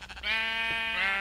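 A single drawn-out Minecraft sheep bleat rings out loud and near, a nasal, wavering call lasting about a second.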